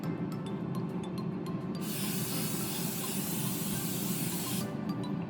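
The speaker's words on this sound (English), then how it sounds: "we should spray some olive oil on it" Olive oil cooking spray hisses steadily from a can onto mozzarella sticks for an air fryer, a close, sustained spray of about three seconds framed by lighter rubbing sounds.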